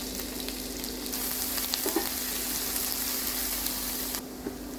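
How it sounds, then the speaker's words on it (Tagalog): Chopped onion and spring onion whites frying in oil, a constant, moderately loud sizzle with a faint steady hum underneath that drops away near the end. "Fry until it turns to golden brown."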